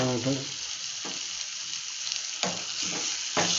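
Ridge gourd sambar ingredients sautéing in a pan: a continuous close sizzle, broken by a few scraping stir strokes at intervals, with no talking.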